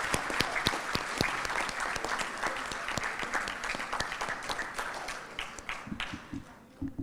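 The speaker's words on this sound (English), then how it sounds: "Let's have another round of applause for Shardine." An audience at a welcome event at the Hilton Barbados claps for a speaker named Shardine. The applause starts brisk and dense, then thins into scattered claps that taper off.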